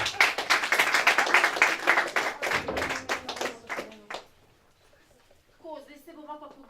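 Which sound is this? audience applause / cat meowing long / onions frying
audience applause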